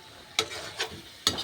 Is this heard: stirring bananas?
yes